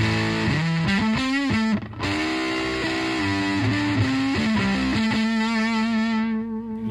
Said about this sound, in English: if you have a real low output pickup and you're going for a lot of fuzz, I put a switch in there called more fuzz